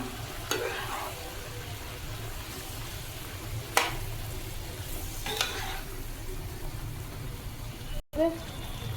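Shrimp and spinach sizzle steadily in a frying pan while being stirred, a continuous close crackle with occasional scrapes and clinks of the utensil against the pan.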